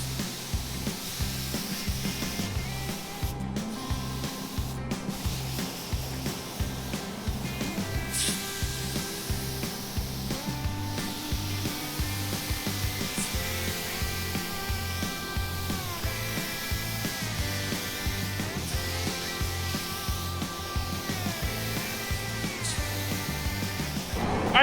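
A spray gun lays sealer onto a truck body in a paint booth, hissing steadily and close for a long stretch under a constant droning hum and rhythmic mechanical pulsing, with no talking.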